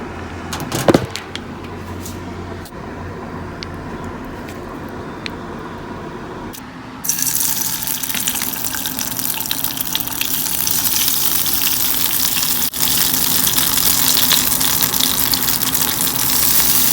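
Onions sizzle in olive oil in a pan for a plant-based bacon dish; a soft, steady crackle grows louder partway through and then holds as a dense, continuous fry with no talking.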